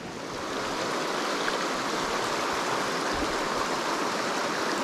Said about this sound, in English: Pretty good water flow after these rains